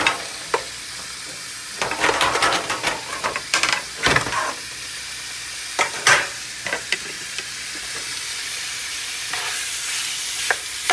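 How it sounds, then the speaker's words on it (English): Meat sizzles and fries in a hot pan for Mexican carne con chile, a steady crackling hiss with bursts of spattering and occasional stirring or scraping, close and alone with no talk. "So you guys hear that sizzle?"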